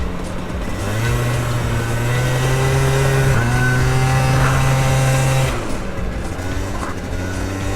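Modded two-stroke scooter engine climbing a steep uphill under load, its buzzing note loud and close, holding high revs with a rising pitch and then easing off near the end.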